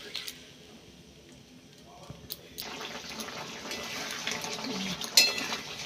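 Water from a spice bowl is poured into a cooking pan of potatoes, starting as a steady, close stream that grows fuller, with a sharp clink near the end and someone talking over it.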